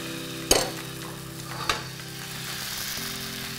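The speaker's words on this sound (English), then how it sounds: "just go in with 1 small ladle of the crepe batter" Crepe batter cooking in coconut oil in a pan gives a gentle steady sizzle, broken by two sharp clacks of a utensil against the pan.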